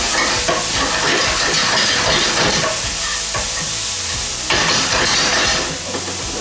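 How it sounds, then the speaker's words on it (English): Onions, ginger and garlic fry in sesame oil with a steady, loud sizzle and hiss that runs the whole time, with occasional stirring scrapes and no voices. "It's got sesame seed oil, it's got ginger, it's got garlic, all just frying up nice and translucent."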